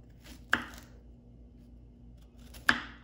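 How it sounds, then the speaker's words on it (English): A knife chopping food on a board for a bowl, two crisp separate cuts in a quiet kitchen. "And I just cut it up"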